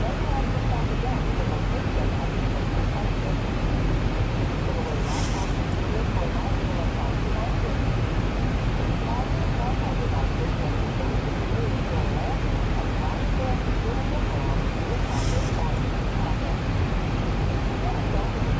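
Steady, loud broadband drone fills an aircraft cockpit while circling to land on runway 33 at Castlegar, BC, constant and unbroken throughout with faint brief high ticks.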